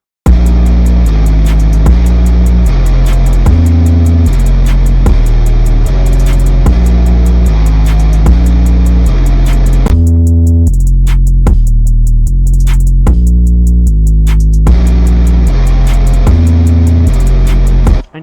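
A full FL Studio beat plays loud and steady, with punchy drums, hi-hats and a deep 808 bass line under a melody. The drums drop out briefly midway and then return.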